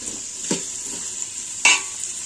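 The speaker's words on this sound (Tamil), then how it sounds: "வெங்காயம் போட்டாச்சு. நம்ம இதை நல்லா பொன்னிறமாக வதக்கிடுவோம்." Onions sizzle steadily in a hot pan with a constant hiss, while a utensil scrapes and clinks against the metal a couple of times.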